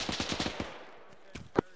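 Machine gun fire in the military video game Arma: a rapid burst of about eight evenly spaced shots, followed by a few scattered single distant reports.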